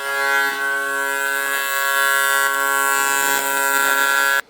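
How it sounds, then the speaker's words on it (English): TIG welder buzzing steadily while joining a custom aluminum plate made to mount a Dodge master cylinder on a 1966 Ford crew cab body, a close, continuous tonal hum that holds for several seconds and then cuts off abruptly. "So Dad's just TIG welding all this up right now"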